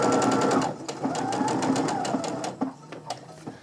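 A sewing machine stitches quilt fabric in rapid bursts, its needle chattering loudly and close, pausing briefly and restarting a few times before slowing to scattered stitches near the end.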